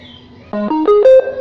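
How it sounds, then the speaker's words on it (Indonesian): An active speaker with Bluetooth fitted plays its power-on indicator: a short series of rising electronic beeps, four stepped tones climbing in pitch over about a second, loud and clear after a quiet hum. "Nah itu bunyi tanda bluetoothnya udah nyala."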